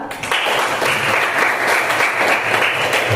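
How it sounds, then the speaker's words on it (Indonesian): Classroom audience applauding a student group after a presentation on Archimedes' principle, brisk continuous clapping from many hands, close and even for a few seconds. "kita kasih aplaus untuk kelompok kedua"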